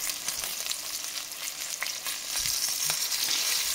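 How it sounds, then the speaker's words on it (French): Chicken pieces brown in a hot pan, a continuous bright sizzle with occasional crackles and a few stirring scrapes, close and steady throughout. "dorer nos morceaux de poulet. Donc là, je vais le faire en 2 fois."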